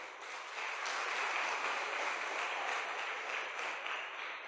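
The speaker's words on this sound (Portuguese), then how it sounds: "Dá um louvor de palmas para o Senhor." A church congregation claps in praise to the Lord, a steady wash of applause that swells quickly, holds evenly for several seconds and then begins to ease off.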